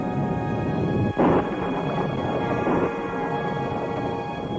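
Thunder rumbling over a mountain during a dramatized Bible scene, a steady broad roar with one sharp crack and a second swell, loud and close, with no speech.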